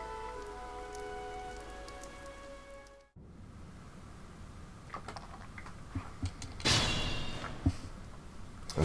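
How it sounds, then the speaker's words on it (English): Rain falls in Fire Emblem Three Houses, a steady hiss of drops on surfaces after a musical tone cuts off, with scattered louder patters and one brief heavier burst. "This rain threatens a coming storm."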